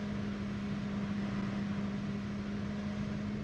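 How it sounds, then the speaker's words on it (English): An F-15E jet fuel starter spools up in the DCS World flight sim, a steady, faint mechanical whine with a constant low hum and no change in level. "You can hear the jet fuel starter coming alive."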